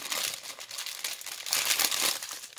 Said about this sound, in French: Alors, je vais ouvrir les diamants